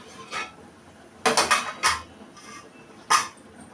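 A metal pot lid is handled over cooking ragi, with a faint early tap and then a cluster of close metallic clanks and scrapes, followed by one last sharp clink.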